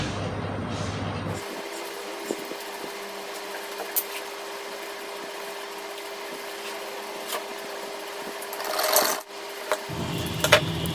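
A sewing machine runs in a steady, fairly quiet whir, stitching along the folded edges of fabric for a kurti dress, with a few small clicks and a short pause near the end.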